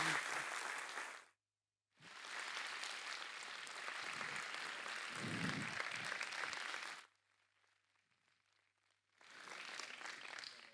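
An audience at a lecture claps in bursts: a short round, a brief silence, a longer sustained stretch, a quiet gap with faint murmur, then the clapping picks up again.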